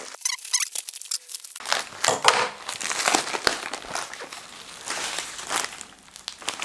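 Packaging for an RTX 30 series graphics card being opened: loud, close crinkling and crumpling of plastic and cardboard with tearing and rustling, starting after a brief quiet moment and continuing in irregular bursts.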